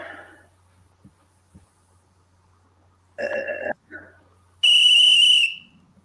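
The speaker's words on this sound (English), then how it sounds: "Or are you just gonna sit there and blow your whistle?" A loud, sustained high-pitched whistle blast near the end, preceded by a shorter tonal burst and a brief sound, with near-silence before.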